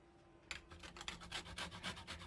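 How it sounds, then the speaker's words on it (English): Lemon skin scraped quickly against a zester, a rapid series of close, soft rasping strokes in a steady rhythm, quiet and without talk. "zest the lemon skin. We're gonna use the zest from the lemon skin."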